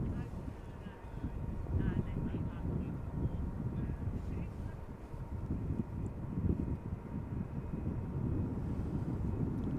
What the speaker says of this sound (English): 777-300 outbound to Nairobi is now taking off in the background